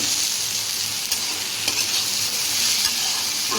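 Moong and matar dal fry in a pot for khichuri while a spoon stirs and scrapes them. A continuous close sizzle carries a few light scraping clicks spread across it.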